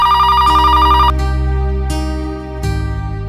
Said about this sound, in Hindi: ये समर का ही फोन है